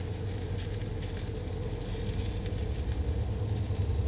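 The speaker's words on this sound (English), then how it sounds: "we just want to get a really nice sear on the bottom side of these potatoes" Seasoned potatoes sear face down in a hot pan, giving a steady, close sizzle that stays even and continuous throughout, with no voices.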